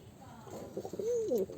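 Pigeons in a loft give a soft, rising-and-falling coo that builds over a second and a half, close and moderately loud over a low murmur of background noise.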